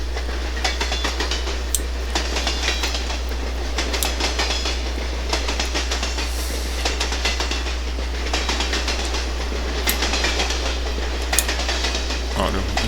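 A Conrail freight train with GT freight cars rolls steadily past in 1991, wheels clicking and clacking rhythmically over rail joints amid a constant low rumble and metallic rattling, loud and close.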